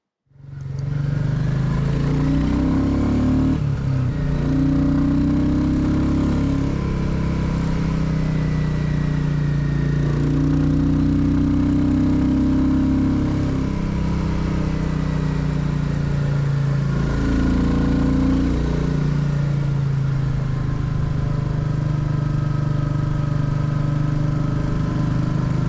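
A Royal Enfield Classic 350 motorcycle engine runs steadily and close up, a low single-cylinder thump with a few gentle rises in revs, and no talk throughout.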